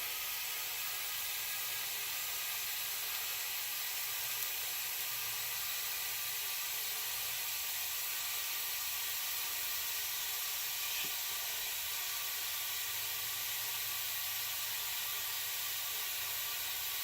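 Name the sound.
butane can fizzing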